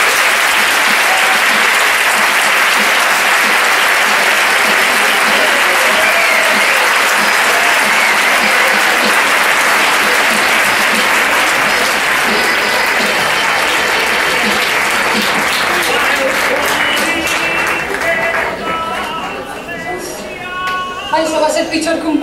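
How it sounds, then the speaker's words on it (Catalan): A large audience applauds loudly and steadily at a Falla Sant Antoni presentation in Xirivella, with the clapping running for a long stretch before it thins out near the end. "anem a donar un fort aplaudiment a l'acord d'honor de la Falla Sant Antoni i a la seva fallera major 2014"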